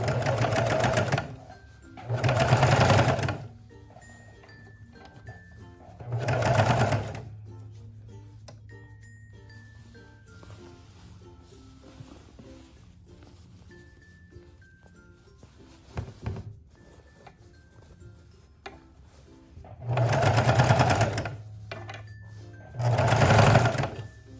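A sewing machine stitches gathers on a mini dress in several short bursts of rapid whirring, with quiet gaps of handling and faint clinks between runs.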